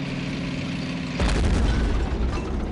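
In Men of War: Assault Squad, a single loud gun blast booms out over a low idling engine hum, then its rumble trails off, with no talking.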